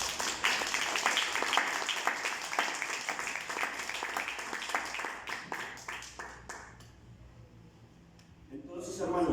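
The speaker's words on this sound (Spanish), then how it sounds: "Denle un aplauso fuerte al Señor" Congregation applause for the Lord in a church, a dense burst of many hands clapping that thins and fades after several seconds before fresh noise swells again at the end, with speech mixed in.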